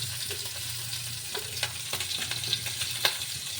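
Small tangra fish slipping one at a time into hot oil in a pan, a steady frying sizzle with soft crackles and a few sharper pops as each piece lands.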